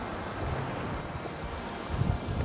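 Ocean waves break and wash over wet rocks along a rocky fishing shoreline: a steady roar of surf with gusting wind noise and a heavier surge near the end.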